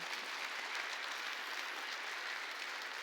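A church congregation claps together during a Wednesday worship service, a dense, steady wash of applause sustained evenly throughout with no voices rising above it.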